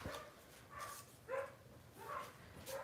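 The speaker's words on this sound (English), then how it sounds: "I'm gonna apologize in advance for my dogs barking." Several short, faint dog barks and yips sound in quick succession, distant and thin over a quiet room.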